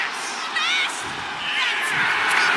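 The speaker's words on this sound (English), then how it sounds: "Look at Sheamus getting the crowd involved." An arena crowd cheers and shouts in WWE 2K25 as Sheamus rallies them, a loud, sustained roar with whoops rising and falling, while commentary voices talk over it.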